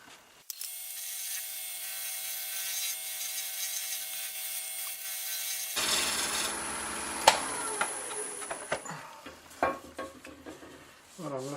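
A wood lathe runs with a steady motor whine as the outside of a gnarly burl with an old dead hollow section is turned. The gouge then bites in with scraping, rasping cuts and irregular knocks.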